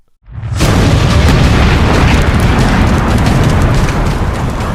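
A sudden, very loud car explosion bursts out of silence and rolls on as a sustained, roaring blast.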